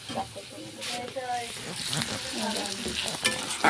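Food sizzles in a hot pan while being stirred, a close, continuous frying hiss with scraping movements, and a person talks over it.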